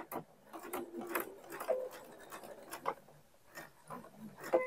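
A home sewing machine runs a decorative topstitch on the right side of a pair of shorts' front panel, with quiet rhythmic needle ticks and soft fabric rubbing in short uneven spurts, near and faint.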